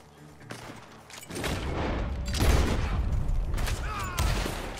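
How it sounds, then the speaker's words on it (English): Gunfire in the Red Dead Redemption 2 video game comes from a barn: repeated heavy bangs and booming volleys that rise and fall over several seconds, mixed with game effects and occasional voices. "Gunshots are coming from that barn."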